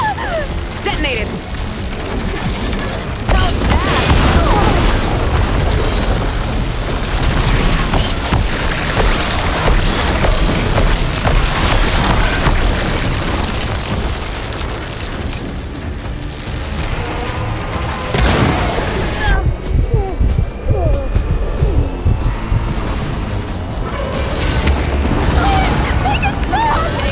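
Explosions detonating in the Horizon Forbidden West: Burning Shores game, heavy booms and crackling bursts layered over a dense roar of combat, with character voices talking through it.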